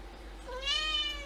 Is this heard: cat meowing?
yes